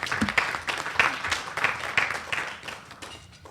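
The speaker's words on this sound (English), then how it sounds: "Please give her a round of applause." An audience at a Florida child abuse prevention event applauds, a burst of many hands clapping that starts full and gradually thins and fades out.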